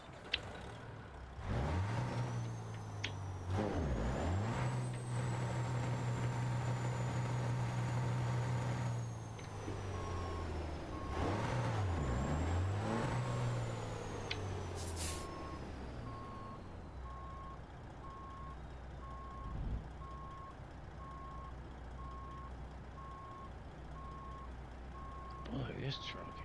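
Truck in American Truck Simulator reversing with a steady repeating back-up beeper, engine rumbling and revving underneath, plus air brake hisses; a voice talks over parts of it.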